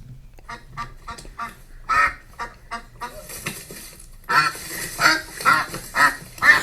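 Ducks quack repeatedly and loudly in a series of short, evenly spaced calls, heard from a played video clip with no talking over them.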